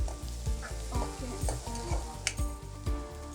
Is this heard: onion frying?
yes